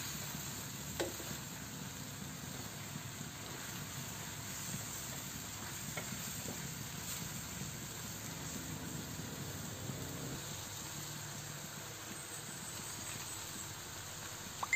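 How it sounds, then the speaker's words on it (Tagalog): Food seasoned with umami powder sizzles steadily in a hot pan as it is stirred, a close, continuous frying hiss broken by a few light scraping ticks, with no talking. "Haluin lang natin."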